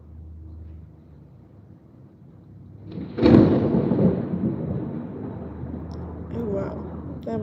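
Thunder from a nearby lightning strike during a Tennessee thunderstorm: a sudden loud crack and rumble bursts in after a quiet stretch, then rolls on and slowly fades.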